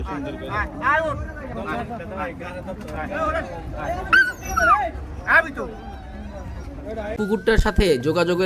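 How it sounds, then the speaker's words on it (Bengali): A dog sitting in river water beside a boat at Char Kukri Mukri, Bhola, Bangladesh, whimpers, yips and barks in repeated bursts while people talk nearby, ending with louder sharp barks. "এই কুকুরটা বাড়িতে যাইতে যাচ্ছে বাট যাওয়ার মানুষ পাচ্ছিল না"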